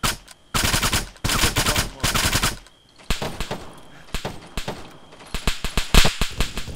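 Automatic gunfire in Arma III, loud rapid bursts broken by short pauses, some shots sounding nearer and others more distant.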